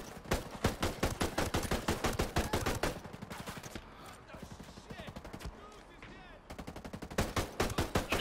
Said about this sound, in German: Ich krieg von hinten auch noch Beschuss rein die ganze Zeit.